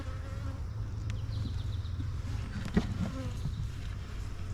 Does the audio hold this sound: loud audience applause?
no